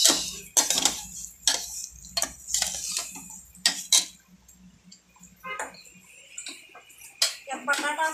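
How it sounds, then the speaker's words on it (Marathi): Ground peanut powder is stirred into a mixture in a pan with a spoon, making irregular scraping taps and clicks, some sharp and close, with a short soft stretch midway. "हे कूट पण यात टाकायचं असं, आणि पूर्ण हलवून घ्यायचं छानपैकी"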